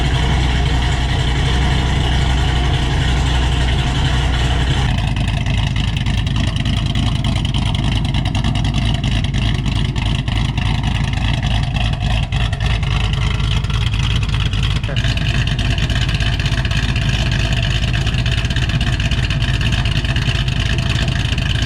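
Cammed Ford Shelby GT500 V8 idling on a 750 RPM tune, a loud, steady low rumble with a choppy lope that runs continuously from start to finish.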